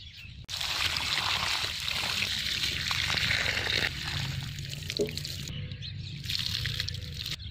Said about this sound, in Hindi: तो खैर कोई बात नहीं, इसको पानी देते हैं,